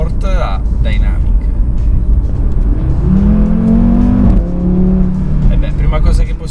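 An Audi RS3 ABT with a turbocharged five-cylinder engine in dynamic mode growls loudly and close, rising into a revving pitch sweep midway and then settling. Background noise runs throughout.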